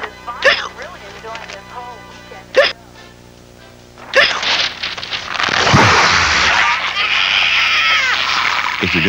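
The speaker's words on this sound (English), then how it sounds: "If you're gonna stop someone's hiccups" Several sharp, abrupt hiccups in a TV commercial, short bursts spaced a couple of seconds apart, followed by a loud chaotic burst of noise and voices.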